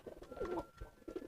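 A domestic pigeon gives soft, throaty cooing calls close by, two or three rolling coos in quick succession, quiet and alone.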